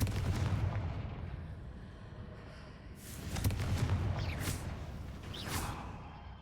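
Explosive blasts from the Confringo spell in the Hogwarts Legacy video game thump faintly in two or three bursts, each with a rumbling boom and a short whooshing tail.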